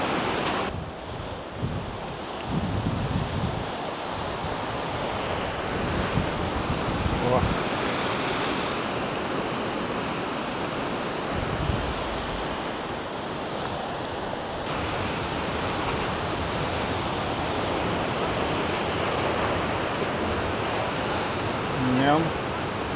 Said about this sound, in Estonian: Õudne, kus vesi peksab siin kogu aeg.